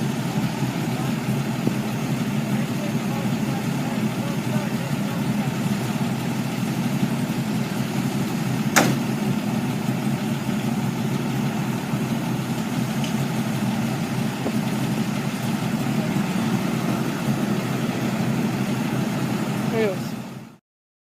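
A kit car's engine idles steadily nearby with a low, even rumble that holds for about twenty seconds before cutting off abruptly at the end.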